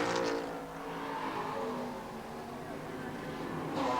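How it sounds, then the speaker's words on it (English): Sports Sedans race around Manfeild, among them a former Cortina Chev, throwing up plenty of smoke. A steady, broad roar of engines carries on throughout and swells slightly at both ends. "Plenty of smoke and noise in the Sports Sedans."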